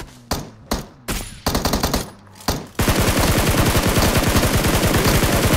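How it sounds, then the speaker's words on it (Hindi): PUBG gunfire: a few separate loud single shots and short bursts, then a long sustained automatic burst with rapid, even shots, very close and dominant. "गोली मारी गोली मारी गोली मारी"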